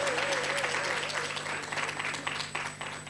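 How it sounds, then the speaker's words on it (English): Applause for a panel at a youth work conference, a dense steady round of clapping filling the hall, with a faint voice tone threading through the start. "Can we please give the panel another round of applause?"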